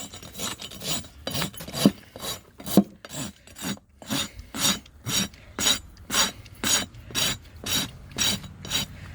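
A farrier's rasp files down the flare on a horse's hoof in rhythmic strokes, irregular at first, then a steady series of loud, close scraping passes with short gaps between them.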